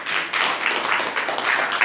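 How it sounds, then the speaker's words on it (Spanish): Congregation applause in a church service, a dense wash of many hands clapping together, steady and fairly loud throughout the short stretch. "denle un aplauso al Señor"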